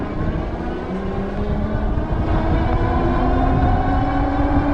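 Engwe Pro 2.0 folding electric bike pulling away from a standstill, a steady close motor whine and road rumble that holds continuous and loud, with a tone rising gradually as it gathers speed.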